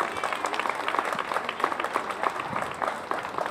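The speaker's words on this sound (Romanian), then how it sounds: "doamna Marta Vangheli, pe care vă rog să o primiți cu aplauze" Applause from an audience at a pigeon racing event in Arad, Romania, a steady patter of many hands clapping at moderate level across the clip.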